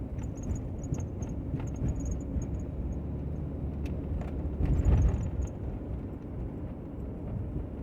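A car rolls over a bumpy road in a steady low rumble from inside the cabin, with irregular thumps and a heavier jolt near the middle, and no one speaks.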